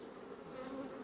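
Honeybees drone in a continuous, even buzz at the hive, a soft close hum holding steady throughout with no voices.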